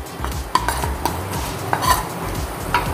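Turmeric, chilli powder, sugar, salt and cumin powder are stir-fried in a pan for a prawn curry. A utensil scrapes and clinks against the metal pan in irregular strokes, with only a faint sizzle underneath.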